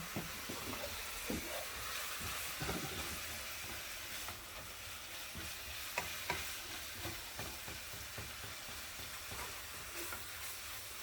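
Ground meat for spaghetti bolognese fries and crackles in a pan over high heat with a continuous close sizzle and frequent stirring scrapes, with no talk.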